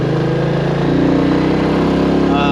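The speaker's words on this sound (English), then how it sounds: "one of those people that just wants a nice quiet motorcycle ride with just engine noise" A Royal Enfield 350 Classic motorcycle engine drones while riding, a loud, steady thumping single-cylinder hum with wind rushing past the microphone and a slight rise in pitch partway through.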